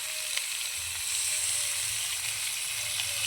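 Chopped tomatoes go into a pan of frying potatoes, and the oil gives a steady bright sizzle with faint stirring scrapes underneath, close and continuous.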